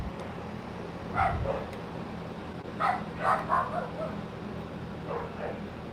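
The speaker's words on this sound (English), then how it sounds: "Now dogs are going crazy." Dogs bark excitedly in several short bursts of yips and whimpering barks at moderate distance, over a low steady background hum.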